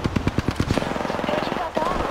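Rapid automatic gunfire in the Apex Legends battle royale game fires in a fast, evenly spaced burst, loud and close, then trails off into a brief pause and quieter game sounds.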